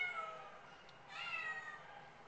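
A female black and white tuxedo cat in a shelter gives two soft, drawn-out meows close by, the second louder and rising, in an otherwise quiet room.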